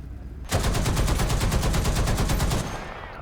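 A .50 cal machine gun mounted on top of a T86 tank in War Thunder fires one rapid, evenly pulsed burst lasting about two seconds, loud and close, then cuts off into background rumble.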